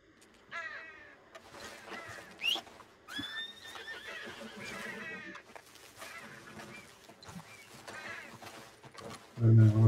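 Horse whinnying in the Red Dead Redemption 2 game on PC, several high neighs and calls over a busy game soundscape at moderate level, with someone talking over it.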